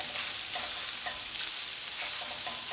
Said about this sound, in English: I'm going to saute the shrimp for like 30 seconds